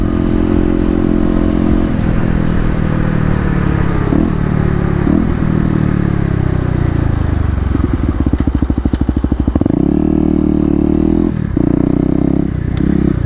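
A Kawasaki KLX250 motorcycle rides through city streets on a cold day, its engine droning loudly and close, rising and falling with throttle changes, with a rattling burst partway through and wind rush over it.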